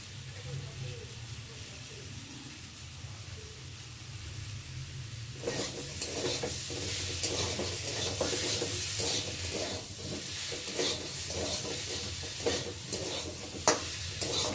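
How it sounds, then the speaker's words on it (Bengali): Cumin seeds and chili powder sizzle in a hot pan, with a sudden surge at the midpoint. Repeated scraping stirs follow in an uneven rhythm, close and steady. A voice speaks faintly underneath. "মশলাটা না যত কষাবে তত টেস্ট লাগবে খেতে"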